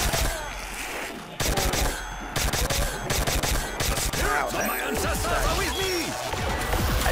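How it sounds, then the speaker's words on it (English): A plasma pistol fires repeatedly in Call of Duty World at War custom zombies, with sharp energy shots and crashes in a loud, busy stream of game sound. "It's a plasma pistol. And it literally has unlimited ammo."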